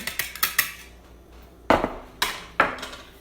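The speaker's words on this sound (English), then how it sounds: "I'm just gonna whisk it all together" A whisk clatters against a bowl while cornstarch, flour and salt are mixed, giving sharp, irregular taps and scrapes in quick bursts with short pauses between them.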